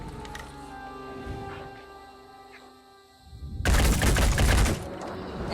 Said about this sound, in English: shooting it in the back leg seems to be pretty effective